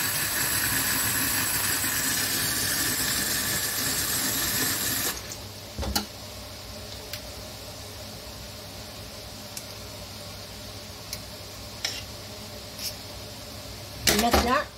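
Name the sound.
rinsing rice with cold water in a pot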